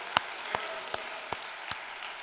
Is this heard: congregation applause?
yes